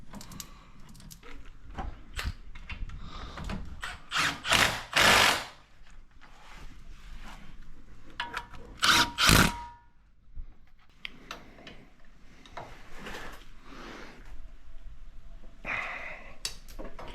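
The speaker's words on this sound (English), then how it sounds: "Just get a couple threads on the caliper bracket bolt and run them in with the 3/8 impact" A 3/8 impact wrench runs caliper bracket bolts in on a Chevy Avalanche brake job: two short, loud rattling bursts a few seconds apart, amid quieter clicks and workshop handling noise.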